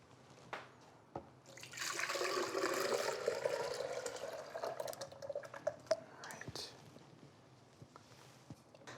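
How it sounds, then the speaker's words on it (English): A thick rice and cinnamon mixture pours steadily into a blender for several seconds with a soft sloshing rush, trailing off into faint drips and light clatter. "I'm just gonna pour this in."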